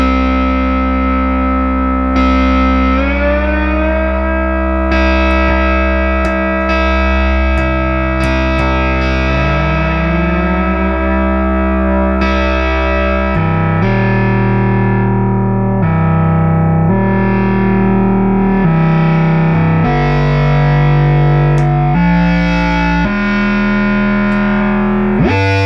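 A restored Minimoog synthesizer plays a raw, buzzy tone with sustained notes, gliding pitch sweeps and stepped note changes, loud and alone with no talk.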